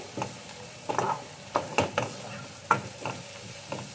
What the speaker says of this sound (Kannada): ಎಲ್ಲ ಹಾಕ್ಬಿಟ್ಟು ಒಂದ್ಸಲ ಚೆನ್ನಾಗಿ ಮಿಕ್ಸ್ ಮಾಡೋಣ.